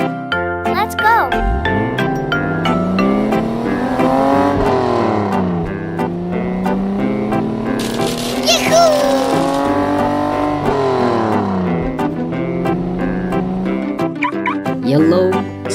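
A yellow toy sports car engine revs with rising and falling whines, loud and close, over jingly music.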